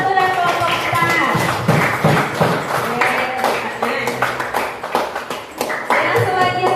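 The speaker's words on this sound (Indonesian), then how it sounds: "Tepuk tangan untuk kelompok 1 dan kelompok 4." Classroom applause from students clapping for groups 1 and 4, a steady fairly loud patter of many hands mixed with voices and cheering throughout.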